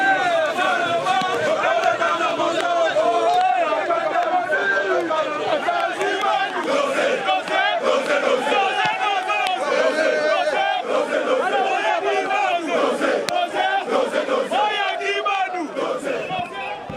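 A large crowd shouts and chants continuously at a mass support march in Kongo Central, a dense, loud roar of many voices with cheering and babble throughout.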